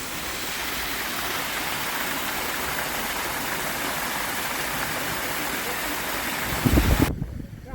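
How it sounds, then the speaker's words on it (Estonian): Pitch Rock Waterfall in the Beitou geothermal area of Yangmingshan National Park, a steady, loud, broadband rush of falling water that continues unbroken and cuts off abruptly at the end. "Pitch Rock Waterfall, nõiakivi juga."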